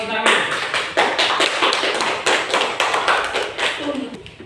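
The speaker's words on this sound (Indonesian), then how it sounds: "Mari kita beri tepuk tangan" A classroom of students clapping for a group presentation, loud close rhythmic clapping that beats in ragged unison pulses, about two claps per second, with faint voices mixed in.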